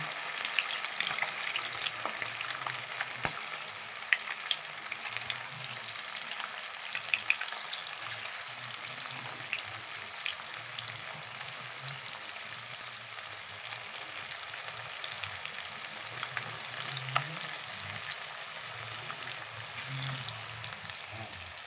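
Chicken pakora pieces, made without egg, frying in hot oil with a continuous, even sizzle and crackle that runs steadily close by with no talk.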